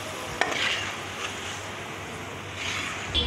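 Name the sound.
ginger, garlic, onion, cumin paste frying in pan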